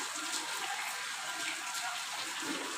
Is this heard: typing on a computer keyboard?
no